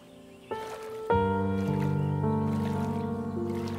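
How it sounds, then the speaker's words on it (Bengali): A cartoon boat heads out for fishing, heard as a soft watery splash followed by sustained tonal music-like chimes, steady and moderately loud with no talking. "আর নৌকা নিয়ে মাছ মারতে চলে যায়"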